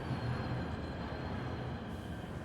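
A steady, dense rumble of a train in the Warhammer 40K Rogue Trader video game, a continuous low rolling drone that holds level throughout without any voices.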